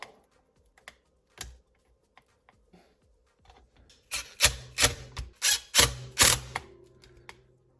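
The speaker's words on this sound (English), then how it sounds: "So now we're going to pop out this special D-block." Plastic clicks and snaps from a D-block being pried out of an Arrma RC car rear bumper: a few sparse ticks, then a close, loud cluster of sharp cracking pops toward the end.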